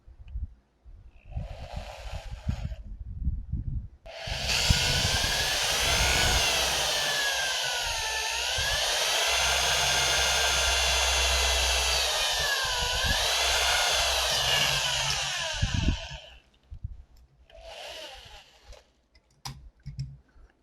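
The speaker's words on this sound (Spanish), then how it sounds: "barrena y vamos a taladrar aquí en el centro" A power drill bores through the center of a homemade indoor TV antenna element, whining steadily for about twelve seconds with pitch dips as it bites, framed by quieter handling clicks before and after.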